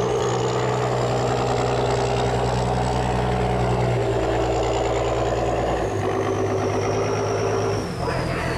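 A steel boat's engine running in reverse near a canal lock, a loud close rhythmic diesel chugging with a high whine above it, steady then dipping briefly near the end.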